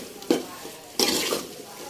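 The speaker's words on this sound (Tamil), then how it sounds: "இப்போ வந்து நல்லா மிக்ஸ் பண்ணிடலாம்." Ginger garlic paste fries with tomatoes and onions in a pan as a spoon stirs, two sharp scraping bursts over a continuous close sizzle, no voices.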